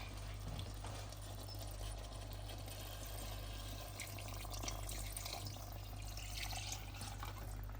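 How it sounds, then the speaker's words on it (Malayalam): One and a half cups of lukewarm water poured steadily into appam batter, a continuous close splashing wash running the whole time over a low background hum, with no talking. "ഒന്നര കപ്പ് വെള്ളം ചെറു ചൂടുവെള്ളമായിട്ട് ചൂടാക്കി വെച്ചിട്ടുണ്ട് അപ്പോൾ നമുക്കിനി അത് ഇതിലോട്ട് ഒഴിച്ചു കൊടുക്കാം"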